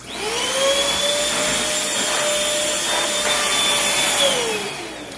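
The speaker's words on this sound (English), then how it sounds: "So I'll just vacuum those real quick" A Bissell Featherweight stick vacuum in handheld mode runs with a steady whirring hum, close and fairly loud, its pitch rising briefly at start and dipping as it shuts off.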